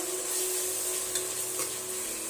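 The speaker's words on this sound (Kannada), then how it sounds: "ಉಪ್ಪು ಹಾಕಿ ಅದನ್ನ ಫ್ರೈ ಮಾಡ್ಕೋಬೇಕು" Tomato and onion frying with salt in a pan, a dense continuous sizzle with a faint steady hum beneath and a couple of light utensil taps, close by with no talking.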